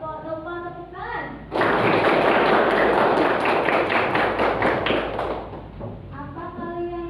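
A class of children claps together in a loud, dense burst of rapid overlapping hand claps lasting about four seconds, close by, with a teacher speaking before and after.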